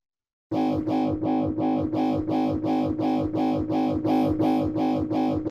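A distorted, buzzy synthesizer tone repeats in a steady rhythmic pulse, about a dozen even notes, loud and alone with no voices, in hi-tech electronic music production.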